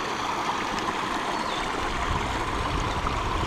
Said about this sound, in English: the beautiful sounds of water